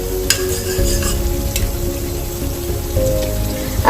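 Spice masala with added tamarind pulp fries in a pan for Singapore spicy prawns, giving a steady close sizzle with crackling pops and stirring scrapes throughout and no talk.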